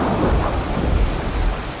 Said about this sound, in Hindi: हर तरफ गुप्त अंधेरा और बारिश और तूफान की आवाज़ें हैं।